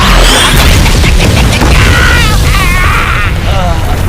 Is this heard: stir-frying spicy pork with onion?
no